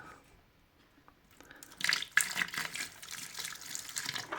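Filtered reverse-osmosis water poured into a container holding grapevine cuttings, a gentle splashing stream that begins faintly after a quiet start and continues steadily, close and moderately loud.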